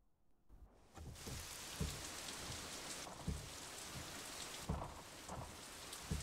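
Heavy rain in the racing game Assetto Corsa, a dense steady hiss of downpour with occasional low rumbling thunder thuds, filling the scene with no voices.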